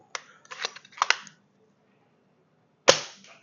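A VSR10 bolt-action airsoft rifle tuned to about 500 fps, firing a 0.25 g BB: a cluster of close mechanical clicks, a brief pause, then one sharp, loud snap of the shot.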